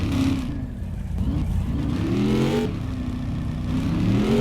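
A car in the My Garage video game revs its engine with shifting, rising tones, held in neutral to spin and smoke its tires; a steady, fairly loud engine drone with no talk.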